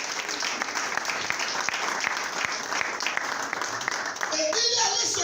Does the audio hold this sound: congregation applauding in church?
yes